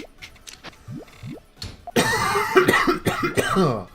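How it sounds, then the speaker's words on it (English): After some brief chirpy electronic sounds from the game Puyo Puyo Tetris, a person coughs several times in a row, harsh and close. "I hope you guys don't mind my coughing."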